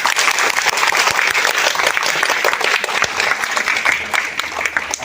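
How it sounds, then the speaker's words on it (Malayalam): A crowd gathered for a priest's birthday celebration claps together in dense, loud, sustained applause that continues evenly, with faint voices mixed in. "കൂട്ട കൈയടി അടിയാണ്."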